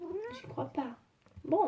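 A pet cat named Mimi meows and caterwauls in a few drawn-out, wavering cries at close range, mixed in with someone talking to it in French.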